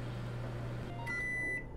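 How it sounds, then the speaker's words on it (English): A microwave oven in the Job Simulator video game hums steadily, then gives a short run of beeps near the end, close and alone. "Close the door and let me get a shot of the microwave running."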